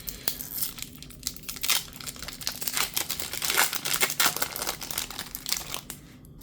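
A Pokémon Chaos Ascendant booster pack wrapper is torn and crinkled open up close, producing continuous loud plastic crackling and rustling for several seconds.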